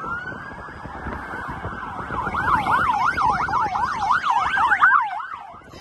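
Secret Service motorcade sirens wailing near Union Station in Washington, DC, heading toward the Capitol: a steady tone gives way to rapid yelping warbles that grow louder and closer, with no talk.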